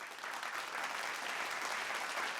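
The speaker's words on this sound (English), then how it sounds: "So a big round of applause for them" An audience claps in sustained, dense applause at an infrastructure and electrical safety summit, a steady wash of many hands heard at moderate distance with no break.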